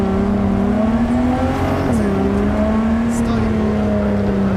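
Steady engine drone of a car driven around the city in Cyberpunk 2077, a continuous hum with a slight pitch dip partway through, mixed with ambient game sound.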